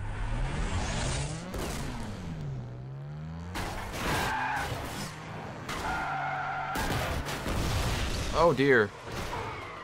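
Cars skid and crash in the Burnout Revenge racing game, with engine drones, screeching tire slides and sharp impact bursts over nearly ten seconds, while someone talks over the action.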